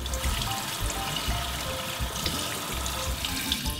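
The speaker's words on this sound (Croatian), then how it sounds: "I njega ćemo pustiti kroz malo hladne vode." Cold tap water runs over cooked vegetables, including carrot, being rinsed for an Olivier salad. A close, steady stream splashes and trickles continuously throughout.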